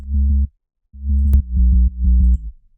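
Bass synth line shaped with EQ that trims the high end around 250 Hz, plus Camel Crusher distortion and compression: a deep, gritty low tone in short sustained notes, a pause, then several more pulsing notes, loud and alone.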